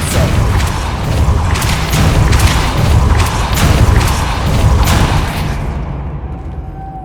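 The Depulso spell in Hogwarts Legacy goes off as a loud, dense whooshing blast with booming low rumble and repeated thudding bursts, fading out at the end.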